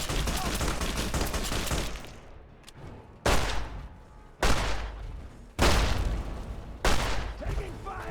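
Gunfire in the video game Fallout 3/New Vegas: loud, close bursts of shots repeat roughly every second or so, each fading into echo, after a stretch of dense, noisy firing.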